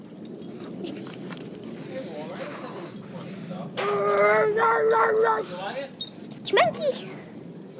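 A Rottweiler dog whimpers and yips in several short, high bursts, with a pitched whine stretching through the middle and another brief yelp near the end, close by, while people talk throughout.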